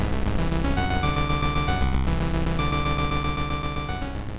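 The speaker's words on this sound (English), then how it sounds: "so we're going to use a software synthesizer running in Ableton Live." A T-stick digital instrument drives a software synthesizer in Ableton Live, producing a dense, loud, sustained electronic tone with shifting pitches and layered harmonics that fades slightly at the end, with no voices.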